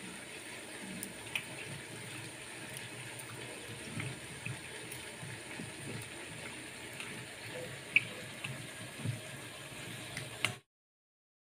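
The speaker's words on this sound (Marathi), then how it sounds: "लिंबाच्या पाण्याने असं छान स्वच्छ धुवून घ्यायचं आहे।" Faint water splashing and trickling as ginger is washed in lemon water while making dry ginger, a quiet steady wash with small splashes, ending abruptly in silence.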